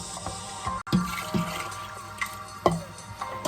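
Water is poured into a soup pot for split pea soup with short ribs, a quiet sloshing stream with small splashes and drips close by.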